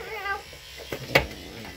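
A cat meowing while its claws are trimmed, a strained, wavering cry followed by a couple of short louder yowls and scuffles, close by and without talking.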